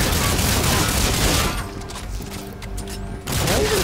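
Heavy automatic gunfire in the video game Call of Duty: Infinite Warfare, a loud continuous fusillade that breaks off midway, leaving a quieter stretch of scattered shots and rumble before the barrage resumes at full strength.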